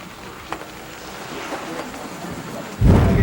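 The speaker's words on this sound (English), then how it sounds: "It's all wet, raining." Rain falls steadily on a tent in cold, wet weather, a soft, continuous patter with a few faint thuds, then a sudden louder rumbling burst near the end.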